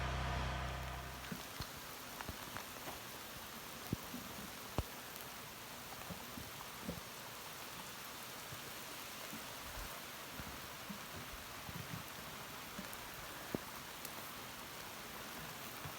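Steady rain falls and patters on surfaces all around, a constant hiss with occasional louder drops, with no talking.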